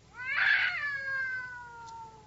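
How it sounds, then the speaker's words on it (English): A cat yowls at night in one long drawn-out wail that swells, then slowly fades and falls in pitch over about two seconds, moderately close with no talking. "Did you wake me up so I could listen to that cat concert?"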